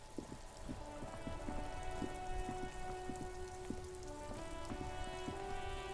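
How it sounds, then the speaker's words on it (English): Steady rain falls in the video game Disco Elysium, a dense continuous patter of drops on hard surfaces with scattered sharper splats, even and moderately loud from start to finish, with no voices. "It's raining again."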